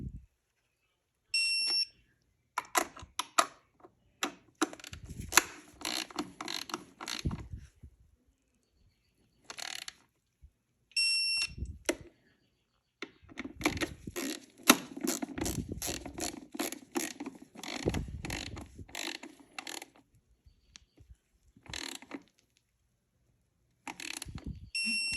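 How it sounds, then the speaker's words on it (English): A torque wrench snugs down bolts on the airbox tub of an EBR/Buell 1190 motorcycle, giving bursts of rapid ratcheting clicks with short pauses between bolts and a few sharp metallic beeps, close and alone. "We get our torque wrench out here, and we'll snug those down."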